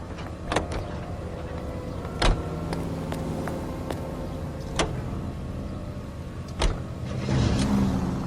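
Car driving in the video game L.A. Noire, a continuous low engine hum broken by several sharp clicks and knocks, ending with a brief swell of engine noise.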